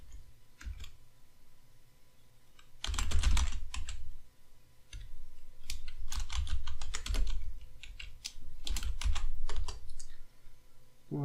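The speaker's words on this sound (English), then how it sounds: "I cannot type today." Rapid bursts of computer keyboard typing while code is entered, clattering keystrokes in quick runs separated by short pauses, close and clear with no talking.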